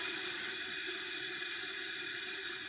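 Tap water pours steadily into a pot, a constant bright splashing hiss held at an even level throughout, close to the listener with no voices.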